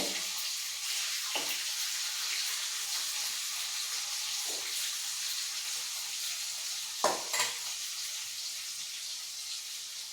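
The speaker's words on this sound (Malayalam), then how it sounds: "ഇങ്ങനെ കുറേശ്ശെ മീൻ എടുത്ത് വേണം വറുത്ത് പോരേണ്ടത്" Pieces of tuna frying in hot oil for a fish pickle, giving a steady close sizzle throughout with a few brief stirring or scooping clatters, no talking.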